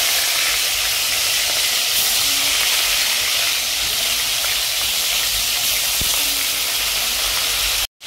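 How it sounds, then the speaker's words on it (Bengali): Hilsa fish shallow frying in oil in a pan, a loud, steady close hiss and sizzle that runs continuously before cutting off abruptly at the end. "এখন একে একে মাছগুলোকে শ্যালো ফ্রাই করে নেব।"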